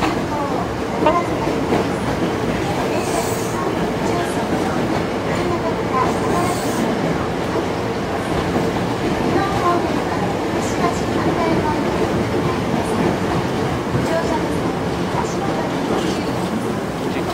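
A Hankyu 5100 series train on an express to Takarazuka rumbles and rattles steadily into Osaka-Umeda Station, wheels clacking on the rails, while a Japanese platform announcement plays over the continuous noise.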